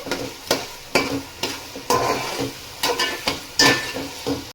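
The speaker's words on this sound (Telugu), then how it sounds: "ఇప్పుడు దీంతో పాటు మసాలాలతో పాటు మనకు అల్లం వెల్లుల్లి పేస్ట్ కూడా మంచిగా ఫ్రై అవ్వాలి" Ginger garlic paste frying with spices in a pan for veg biryani, with about ten rhythmic scraping stirs over a soft sizzle, close and moderately loud.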